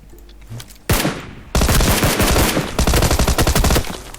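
Rapid automatic gunfire from the video game PUBG Lite bursts out loud and close, a single shot followed by sustained rattling volleys that go on almost without a pause.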